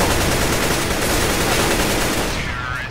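Dense gunfire in a CS:GO competitive match, steady and loud throughout, easing slightly near the end, with faint speech mixed in.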